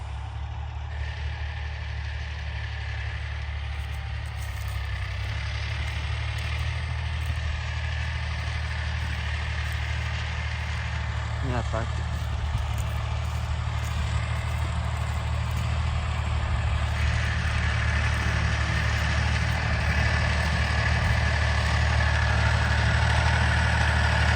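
A tractor engine idles steadily with a deep, constant rumble and low throb, close and unchanging throughout, with no voices.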